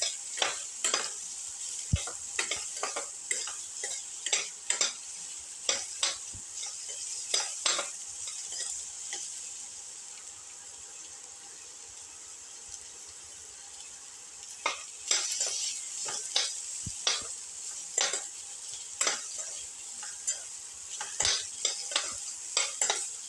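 Onion and shallots sauteing in a pan, heard as repeated sharp stirring scrapes and clicks over a soft sizzle, busy at first, quieter midway, then steady again.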